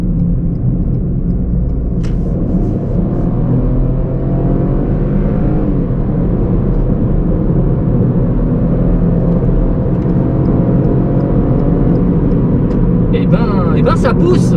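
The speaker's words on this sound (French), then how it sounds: "on va écouter le son du moteur" A Ford Fiesta ST-Line with a 1.0-litre 100 hp EcoBoost engine drones steadily from inside the cabin while driving, a constant loud engine and road rumble that holds its pitch, with a few clicks near the end.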